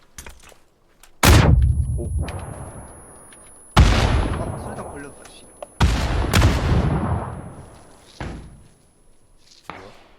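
Gunfire in the battle-royale game PUBG: Battlegrounds, with three or four loud, sharp shots spaced a couple of seconds apart, each trailing off in a reverberant tail, plus a fainter report near the end.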